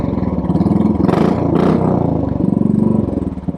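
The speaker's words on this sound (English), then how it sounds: "Listen to that low RPM rumble." Royal Enfield Classic 500 motorcycle with a 499cc single-cylinder engine idling at low RPM, a steady close, loud thumping rumble with a brief rise in revs midway, and no talking.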